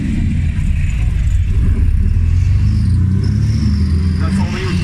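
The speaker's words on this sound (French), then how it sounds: "Sergio Gozzolino et Pascal Gozzolino avec une autre Jaguar E-Type ici, la numéro 217 à l'arrivée également de cette étape." Classic Jaguar E-Type sports cars arriving at the finish of a Tour Auto rally stage in Limoges, a steady low engine rumble with some revving, loud and continuous, with a voice over it.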